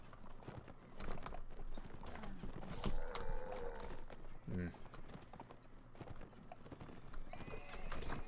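Horse hooves clip-clopping and a horse neighing during a mounted battle in Mount & Blade Warband, with steady hoofbeats, a short whinny midway and someone talking over the scene.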